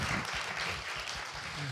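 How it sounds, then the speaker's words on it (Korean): Applause from a Korean talk-show studio audience, a short steady burst of clapping at moderate level, with faint voices underneath. "박수 일단."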